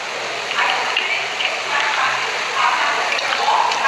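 Water runs and splashes as a 100 ml laboratory beaker is rinsed, a steady close gushing with small surges, alone without talk.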